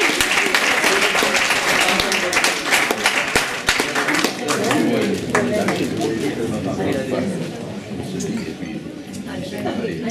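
Guests at a golden, diamond and platinum wedding anniversary ceremony clap together in close, lively applause, with voices talking over and through the clapping as it gradually softens.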